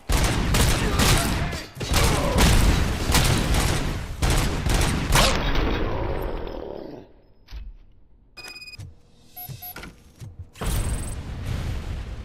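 Video game gunfire crackles in dense, rapid volleys of sharp repeated shots for several seconds, then drops to scattered mechanical clicks and clanks before another loud burst near the end.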